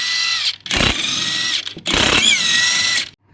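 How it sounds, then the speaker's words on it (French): An impact wrench fitted with a 17 mm impact socket spins wheel bolts loose during drum brake work, two loud sustained bursts of whirring and rattling hammering separated by a short pause, close up with no talk. "pour le démontage des roues, on va utiliser des douilles à choc"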